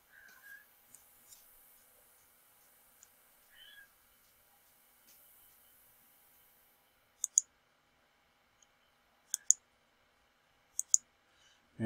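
A computer mouse clicks during a tabletop space-combat game played on screen, giving a few faint, crisp clicks in close pairs spread across a mostly quiet room.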